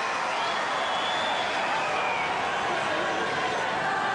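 Tennis crowd at Rod Laver Arena during the 2008 Australian Open men's final, on its feet in a steady roar of cheering and applause, dense and continuous with no pauses, no voices standing out.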